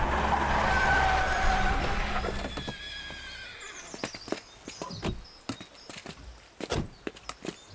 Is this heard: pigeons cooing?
no